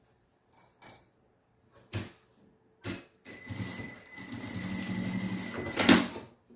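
A sewing machine stitches a safety seam on the main fabric of a small toiletry bag. A few light taps and clicks come first, then a fast, steady mechanical whir runs for a few seconds and ends with a louder clunk.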